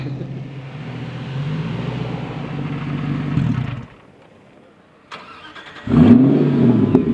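Ford GT on the Dijon circuit, its engine droning steadily then cutting away to near quiet before a sharp click and the motor surging back loud and close.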